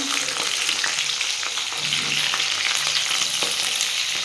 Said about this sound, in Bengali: আমার তেলটা গরম হয়ে গেছে আমি এর মধ্যে এবার শীতের সবজিগুলো একটু ভেজে নেব ক্যাপসিকাম